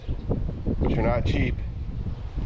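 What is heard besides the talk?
wind blowing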